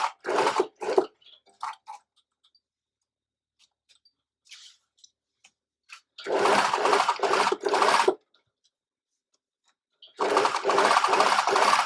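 A sewing machine stitches along the fabric edge of a corset apron in two steady bursts of rapid mechanical whirring, separated by quiet pauses, with light handling clicks and rustles near the start.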